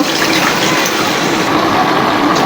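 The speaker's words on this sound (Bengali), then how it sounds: "এখন আমি কড়াইয়ে আরও কিছুটা পানি দিয়ে দেব" Water poured into a wok for a taro and snakehead fish curry, a loud steady rush of liquid lasting the whole moment with no talk.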